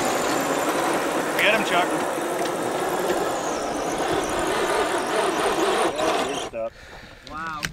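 Electric motor of a 2-cell lipo RC truck whines hard while it pulls a weight sled at a tough truck challenge. Crowd noise and shouting voices fill the clip, and the motor whine cuts off near the end.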